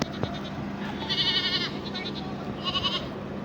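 A goat bleats twice in the open at a La Union outing, two short wavering cries with a pause between them, set against steady background noise and nearby chatter.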